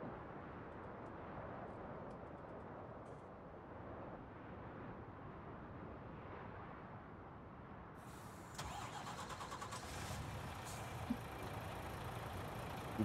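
A tractor engine in Farming Simulator 19 runs with a low, steady mechanical drone, and a brighter, harsher layer of engine noise joins partway through.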